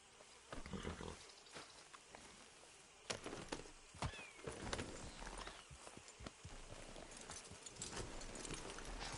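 Horse hooves clopping in the open-world western video game Red Dead Redemption 2, a run of irregular thuds over wind and outdoor ambience, with louder knocks near the middle.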